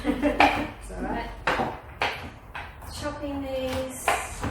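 Cashew nuts chopped roughly on a board in a home kitchen, a series of firm knife strikes in an uneven rhythm, close and fairly loud, with clattering utensils and a voice talking partway through.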